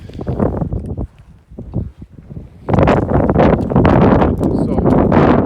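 Strong wind gusts buffet the microphone on the Keonehe'ehe'e (Sliding Sands) trail in Haleakala National Park, Maui, with a rumbling roar that dips briefly and then surges loud and steady.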